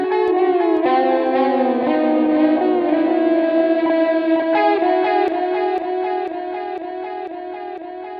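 Lexicon PSP 42 emulation modulation effect applied to a sine-wave and envelope-shaped tone, giving a loud, sustained harmonic sound that wavers and shifts unevenly with echo-like layering throughout, without speech.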